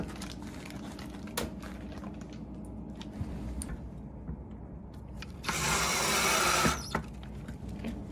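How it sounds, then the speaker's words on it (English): A power drill drives a screw into a metal bracket on a fixed-height teacher's desk during assembly: one loud, steady whirring burst of about a second and a half, close up, against quiet workshop background with a few small knocks. "We're going to shoot a screw in."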